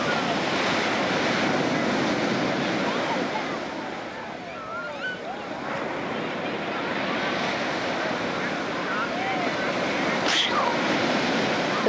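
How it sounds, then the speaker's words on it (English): Steady roar of surf breaking along the shore, with wind buffeting the microphone and a faint voice now and then. "Look at those waves coming on in."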